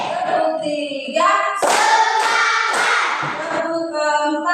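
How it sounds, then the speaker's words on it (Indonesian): Students standing in a classroom clap together in counted rounds, giving several sharp, loud bursts of group hand claps over a sustained tonal voice or music background. "Tepuk satu. Tepuk dua. Tepuk tiga."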